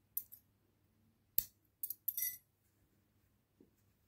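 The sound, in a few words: cutting yarn with scissors for a daisy keychain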